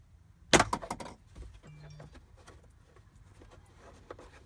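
A sharp plastic snap as the glove box damper is pulled free on a 2009 Ford Flex, one loud crack followed by light rattling and handling noises in the cabin.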